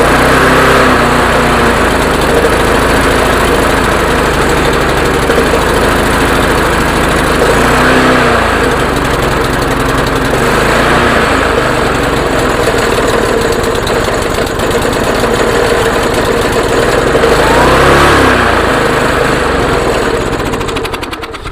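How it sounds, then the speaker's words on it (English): A Murray lawn mower engine runs loud and close throughout, a continuous buzzing drone with a fairly steady pitch and slight surges, with no talking. "All right, well, it's a good sounding engine."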